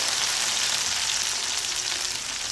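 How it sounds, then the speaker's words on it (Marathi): Onion sautéing in a pan for Maharashtrian dal bati makes a loud, continuous frying sizzle and hiss, steady throughout with no speech. "कांदा परतून घ्यायचा आहे."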